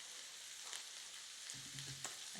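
A chopped garlic clove fries in hot oil, a faint, steady sizzle and crackle with a few soft clicks and stirring sounds near the end.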